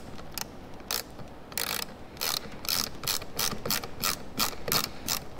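A ratchet clicks in quick rhythmic runs while tightening side mirror screws on a Ferrari F430, a dozen crisp close ratcheting bursts with short gaps, alone and without talk.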